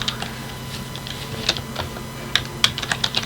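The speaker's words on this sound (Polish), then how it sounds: "bądź klawiatura mi się zaciera" Typing on a computer keyboard whose keys stick, with clicks in uneven clusters and a few sharper key strikes, close up and without talk.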